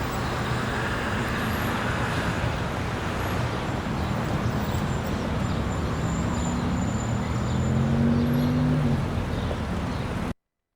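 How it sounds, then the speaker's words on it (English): Car engine revving in a city street from a high-rise vantage, a low rising and falling engine tone swelling briefly above steady, distant traffic rumble. "We have that car revving."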